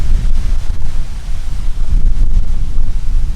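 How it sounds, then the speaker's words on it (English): Strong gusty wind buffets across a vegetable garden during spring seed sowing, a loud continuous low roar with surges and dips, no voices present. "it's so windy"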